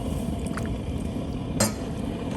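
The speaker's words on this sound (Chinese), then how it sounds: "猪脚我们先下锅啊" Pig trotters go into a pot of water to blanch over steady kitchen background noise, with a single sharp clink and splash partway through.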